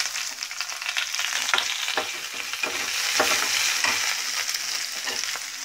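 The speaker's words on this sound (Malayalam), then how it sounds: "ഇതോടൊപ്പം ഞാൻ ബീൻസ് ഇടുകയാണ്." Green beans fry and sizzle in a pan for upma, with a steady crackling hiss and repeated scraping stirs close by.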